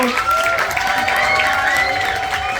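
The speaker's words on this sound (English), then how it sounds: "Let's give them one final cheer for Woodpecker Hall." A theatre audience at a young people's poetry event in Edmonton cheers and applauds for Woodpecker Hall, a dense, continuous roar of clapping and shouts with high-pitched whoops over the top.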